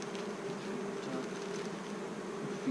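Honeybees buzzing around a backyard hive under robbing, a dense, continuous drone close by with steady intensity throughout.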